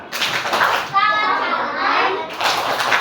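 Fourth-grade children in a classroom clap in short rhythmic bursts during a class chant, mixed with bright, close children's voices.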